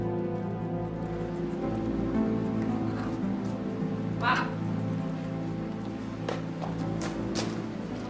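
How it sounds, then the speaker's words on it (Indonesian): Steady rain falling, a continuous hiss heard under people talking, with a few brief louder spatters. "Hujan nih."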